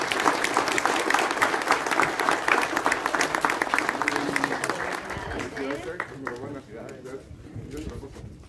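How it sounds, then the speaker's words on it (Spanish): Crowd applause at a ceremony handing out support and certificates to farmers in Pénjamo, loud and dense at first, then thinning and tapering off as voices and murmuring take over toward the end. "Un aplauso, por favor."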